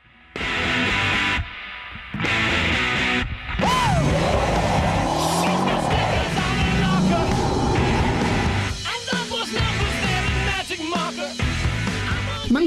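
An American muscle car revs and accelerates hard, its engine roaring loudly with tire squeal and skidding rising over it, after a few short bursts at the start; sustained, close and busy.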